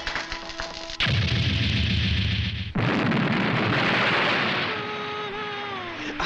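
A cartoon explosion in the Yatterman anime: a loud roaring blast bursts in suddenly, a second booming burst follows, and the rumble then fades into a trailing hiss with faint tonal whistles.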